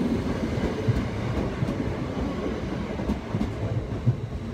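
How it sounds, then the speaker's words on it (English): A Greater Anglia Class 720 train pulls away from the platform at Wickham Market station. A close, continuous rumble carries through it, with a few rail clacks over the top as it departs. "I'm going to wait on this platform for this train to leave so we can see it off one last time"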